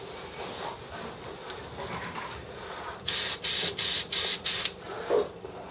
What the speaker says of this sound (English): So you already have to listen to the compressor run